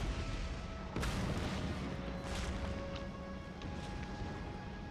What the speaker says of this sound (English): It's fixed artillery.